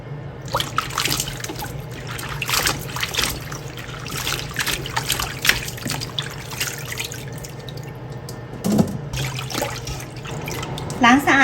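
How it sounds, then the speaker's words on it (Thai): Warabi fern is rinsed in running tap water in a sink, a close, continuous splashing and trickling with brief sloshes as the fronds are handled, while someone talks over it. "ทีนี้ก็มาล้างให้สะอาดอีกรอบนึงนะคะ ล้างจนน้ำใสเลยนะคะ"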